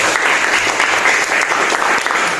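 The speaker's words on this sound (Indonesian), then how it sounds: "Clap hands, tepuk tangan dulu." Steady, dense clapping from many hands fills the whole stretch, loud and continuous like a group applauding together.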